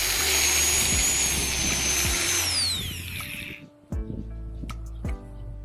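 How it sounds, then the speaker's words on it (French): A grass-cutting device runs loud and close with a high whine, then winds down and cuts out, leaving a few short knocks and clatters. "vous pouvez couper l'herbe avec cet appareil"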